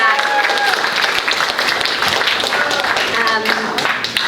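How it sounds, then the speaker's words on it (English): Students at an upper school awards ceremony clap for themselves, a dense, steady patter of many hands mixed with scattered cheers and voices throughout. "So give yourselves a big round of applause and pat your back"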